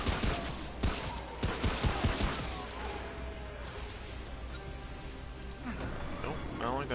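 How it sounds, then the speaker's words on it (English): Rapid gunfire in the video game Remnant: From the Ashes, a dense burst of sharp shots in the first seconds that fades into softer game sounds, with a voice talking over it. "Why do you get to shoot through fucking walls?"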